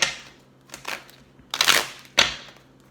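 Tarot cards are shuffled in a few quick bursts, each a sharp papery riffle or snap with short pauses between, close and crisp, with no talking.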